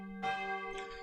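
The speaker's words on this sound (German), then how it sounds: "Das Geläute der Herz-Jesu-Kirche besteht aus insgesamt 5 Glocken." Church bells of the Herz-Jesu-Kirche in Graz, a five-bell peal cast in 1955, strike and ring out loud and resonant, the tones sustaining and overlapping after a single opening stroke.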